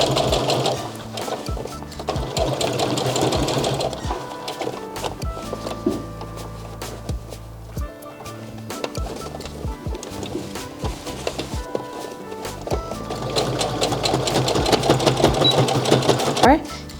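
A sewing machine runs steady stitching along a seam of a pair of pants, its rapid mechanical whir continuing through most of the stretch with brief pauses and a loud finish, under a voice talking.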